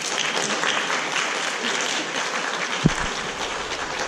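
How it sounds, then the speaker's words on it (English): Audience applause at a school choir concert, a dense, steady clapping from a full room that continues throughout, with a single thump partway through. "Give them a round of applause."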